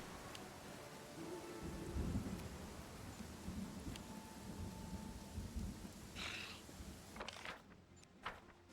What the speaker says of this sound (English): Oh, it looks like the rain's letting up.